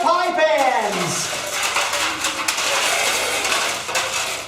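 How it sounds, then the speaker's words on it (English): Light metal pie pans clatter and rattle as they are picked up, with a sliding ringing scrape at the start and scattered clinks throughout. "Let's pick up all the pie pans."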